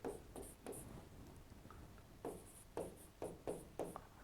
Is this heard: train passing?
no